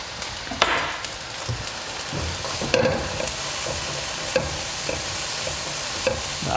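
Ingredients for a chickpea and spinach curry sizzling and browning in a pan, a steady crackling fry broken by scattered sharp clicks and taps of stirring.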